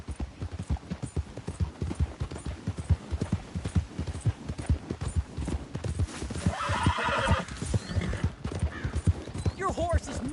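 A horse galloping in Red Dead Redemption 2: a steady, quick clip-clop of hooves runs throughout, with a whinny partway through and game sound layered underneath.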